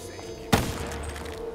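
A shotgun fires once in a zombie-mode first-person shooter game, a single sharp loud blast with a short decaying tail over a low background hum.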